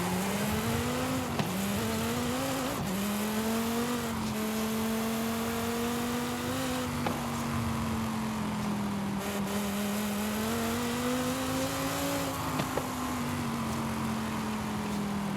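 In Forza Horizon 5, a car of roughly 1100 horsepower drives and revs, its steady loud engine drone rising and dipping through gear shifts with brief tire noise.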